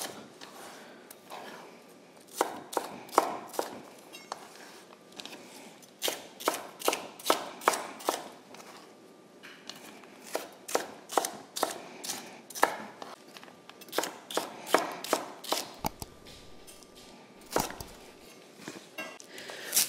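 Onions and peppers being chopped with a knife on a cutting board during freezer-meal prep, a brisk run of close, crisp knife strikes coming in quick bursts with brief pauses between them.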